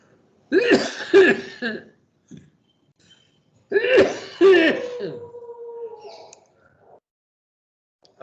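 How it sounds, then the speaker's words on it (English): Two separate fits of harsh coughing, each a cluster of several rough bursts, close and loud, with quiet gaps between them. "that cough is still not leaving me very easily"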